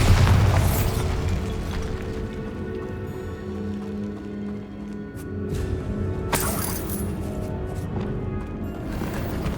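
Spell explosion in Hogwarts Legacy, a heavy boom with crackling, shattering debris, followed by rumbling decay and a second sharp burst with falling fragments.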